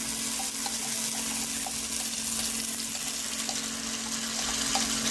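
Chili, garlic and ginger paste with coriander stems frying in plenty of oil for Schezwan sauce, giving a steady, loud, continuous sizzle with no talking.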